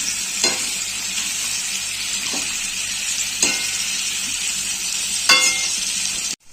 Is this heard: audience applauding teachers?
no